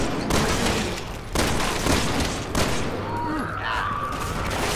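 Gunfire from Resident Evil 6 erupts in a few loud, dense bursts amid a noisy game scene, with a voice talking in the background between shots.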